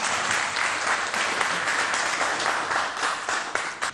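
Audience applause at a formal ceremony honoring a minister, a continuous dense patter of many hands clapping that holds steady for several seconds.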